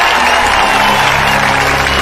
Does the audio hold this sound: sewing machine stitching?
no